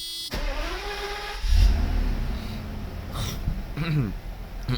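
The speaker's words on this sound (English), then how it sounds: "I was running the car to charge the battery" A Mercedes 600SL engine runs steadily at idle to charge its battery, a low continuous hum under someone talking nearby.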